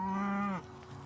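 A single conventional farm cow on a ranch pasture gives one short, nearby moo that cuts off abruptly, heard alone with no voices.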